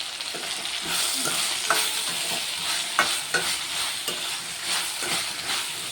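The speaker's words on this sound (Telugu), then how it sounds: "కొంచెం బీరకాయ ముక్కలు అయితే ఫ్రై అవుతున్నాయి" Ridge gourd pieces sizzle steadily in a pan with a broad, constant frying hiss, punctuated by a few soft stirring scrapes; close and alone, with no voices.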